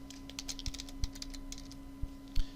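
Quiet keystrokes tap on a computer keyboard in short irregular clusters with a few louder key presses, over a low steady electrical hum.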